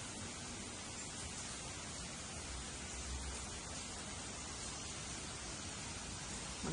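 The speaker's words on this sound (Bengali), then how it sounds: "খুব বৃষ্টি হচ্ছে বাইরে।" Heavy rain pours outside during an early-morning storm in America, under a flood alert: a steady, unbroken wash of hiss with no distinct drops, fairly faint and constant throughout.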